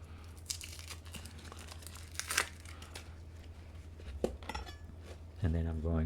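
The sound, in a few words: peeling outer layer off vegetable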